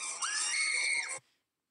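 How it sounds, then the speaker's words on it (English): A Tyrannosaurus rex from the Jurassic Park films lets out a shrill, rising scream that holds loud for about a second, then cuts off abruptly into silence. "Rex, why do you have that stupid scream?"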